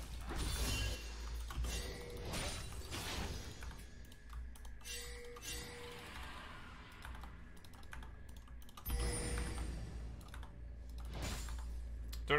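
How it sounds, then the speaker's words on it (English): Computer keyboard typing in bursts of rapid key clicks during a League of Legends game with Tryndamere, close and fairly loud, with some clinking sounds in between. "I don't know if y'all heard my fucking keyboard right there."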